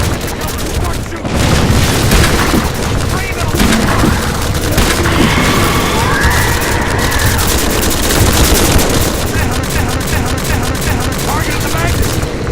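Heavy gunfire roars almost without a break in the video game Half-Life 2: Episode Two, loud, close bursts layered with booms, while voices talk over the battle.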